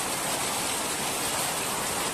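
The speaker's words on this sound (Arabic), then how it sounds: "وهذا البرد" Hail and rain falling during a storm in Saudi Arabia, a dense, loud, continuous hiss and patter with no breaks, heard alone without voices.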